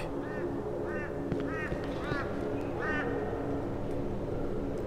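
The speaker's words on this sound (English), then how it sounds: "Hey, seagulls." Seagulls in the horror game Cry of Fear give about five short, squawking calls at intervals over a low steady ambient hum, moderately distant.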